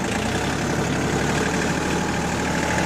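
A John Deere 4410 tractor engine rumbles steadily at close range as it pulls away in third gear, a dense low drone with no break.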